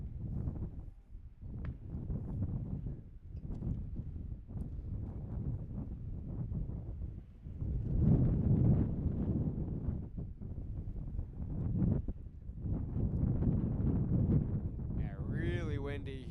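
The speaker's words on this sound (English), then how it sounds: "really windy here as it's picking up now. As you can probably hear it in our mics" Strong gusty wind buffets the microphones at an outdoor girls' high school tennis match, a loud, continuous low rumble that swells and eases over the whole stretch.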